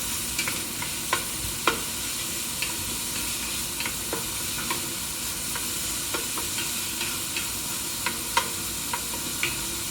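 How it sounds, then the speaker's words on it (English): A seafood gumbo base is stirred in a pot over a continuous sizzle, with a spoon scraping and clicking every second or so, close and moderately loud, and no one speaking. "Stir them a little bit to make they smell a little bit good."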